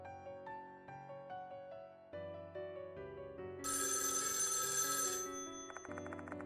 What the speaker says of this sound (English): As I arrive at the mansion, the phone rings.